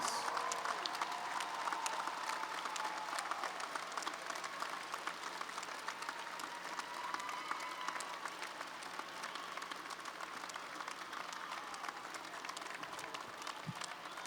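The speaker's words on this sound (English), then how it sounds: "Give them a resounding round of applause." Audience applause fills a university commencement ceremony, a broad, steady wash of many hands clapping that holds at a fairly even level for the whole stretch, distant-sounding and without talk.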